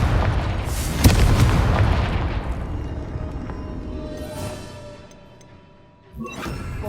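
Confringo blasting curse from Hogwarts Legacy goes off with a loud boom near the start, then rumbling debris that fades out, followed by another sharp burst near the end.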